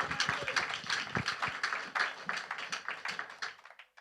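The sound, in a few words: congregation applauding in church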